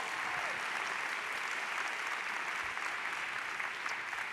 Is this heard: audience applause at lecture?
yes